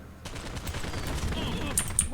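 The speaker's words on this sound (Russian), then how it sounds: "Револьвер такой классный, слушай, он убивает, кажется, всех с одного выстрела." Revolver shots in the video game POSTAL Redux sound as sharp, fairly faint cracks over a dense, rumbling action-game background, with a few clearer bangs near the end.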